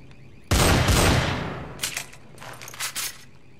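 Remington gunfire in the Half-Life 2 mode of Garry's Mod: a loud, close burst of shots that decays slowly, followed by several quicker, fainter shots spread over the next second and a half.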